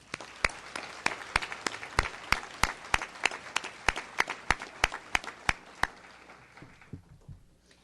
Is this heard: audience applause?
yes